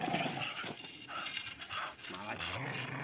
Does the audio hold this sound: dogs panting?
yes